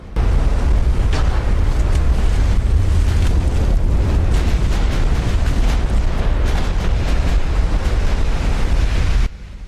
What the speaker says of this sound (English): rear magazines on the Hagen have blown up, and I think that is going to be the end of her